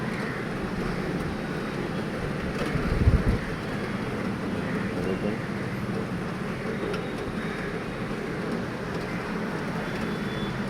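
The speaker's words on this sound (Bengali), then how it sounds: "মনে হয় বৃষ্টিটা ভালোই হচ্ছিল" Rain falls on a Kolkata street in Ultadanga as a steady, moderate hiss, with traffic rumbling underneath and one brief low thump partway through.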